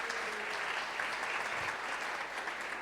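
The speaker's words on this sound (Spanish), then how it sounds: "Denle un aplauso al Señor por eso." A church congregation applauds in sustained, dense clapping at a steady level throughout, with no voices rising above it.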